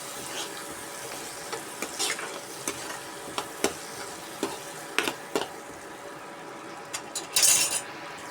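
Ivy gourd curry with turmeric frying in a pan, a soft steady sizzle with scattered scrapes and clicks from a stirring spoon, plus a brief louder clatter near the end.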